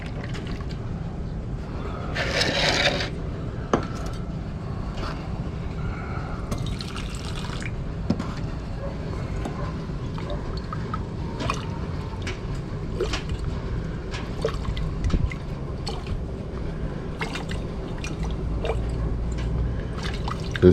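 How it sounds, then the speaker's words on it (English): Water poured off into a nearby container during gold recovery from computer parts, a soft continuous trickle and splash with occasional drips and light knocks, close and moderate in level, with no talk. "Now I just want to pour this water off into something."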